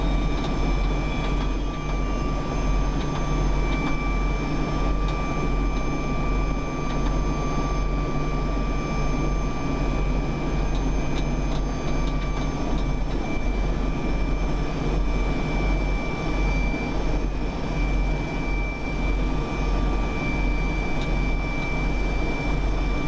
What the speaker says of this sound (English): The Mi-26 helicopters of the Belarus Ministry for Emergency Situations